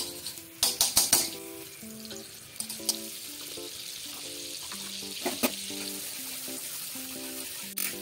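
Butter melts in hot oil in a pan, giving a continuous soft sizzle, with a few sharp clinks of a utensil near the start and light background music tones.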